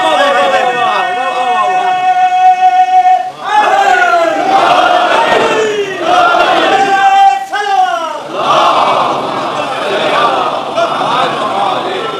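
A large crowd at a Muharram religious gathering chants a slogan in loud, rhythmic waves of many voices together, with brief pauses between repeated shouts.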